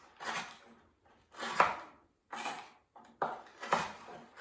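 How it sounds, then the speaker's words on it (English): A knife roughly chopping six Tim Tam chocolate biscuits on a board, five separate crunchy chopping bursts in an uneven rhythm, close and crisp with quiet gaps between. "I'm just going to roughly chop 6 Tim Tams."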